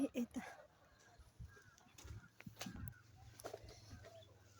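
Faint chickens cluck intermittently nearby, with soft rustling and scattered quiet sounds in a calm outdoor setting.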